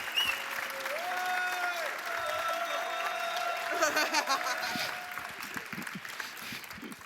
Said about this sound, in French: un tonnerre d'applaudissements pour le lancer